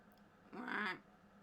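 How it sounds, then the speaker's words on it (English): A single nasal duck quack sound effect, brief and clear, standing alone over quiet background hum. "It's still a duck! It's getting louder."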